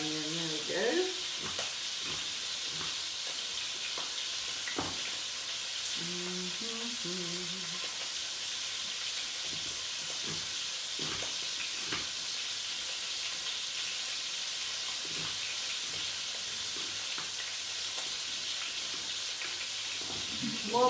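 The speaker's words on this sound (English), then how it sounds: "Okay, I'll just cook another onion." Onion frying in a pan for a beef coconut curry, a soft continuous sizzle with occasional clicks and utensil taps, a few faint voice-like sounds briefly over it, moderately quiet and close.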